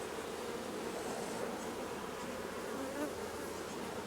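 Honeybees buzzing steadily around an open hive colony during an inspection, a dense continuous drone close by with no voices.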